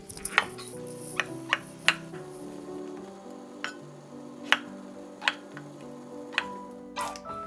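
A knife slices onion and mini king oyster mushrooms into strips on a board, a string of crisp, separate chops at irregular intervals, close and moderately loud, with soft background music underneath.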